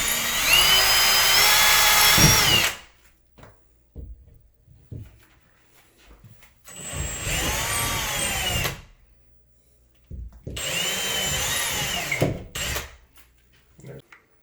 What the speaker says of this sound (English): We drilled through our aluminum stud.